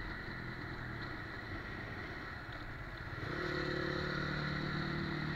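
A Crossfire RM 250 motorcycle engine running nearby, a steady rough drone with clatter that rises in level and settles into a firmer, deeper hum partway through.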